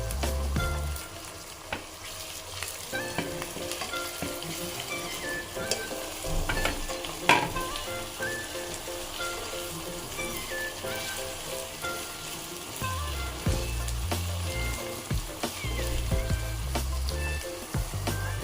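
Tomato, coriander and mint being stirred into fried onions in a pan for chicken pulao: a continuous close sizzle with repeated spatula scraping and occasional clanks against the pan.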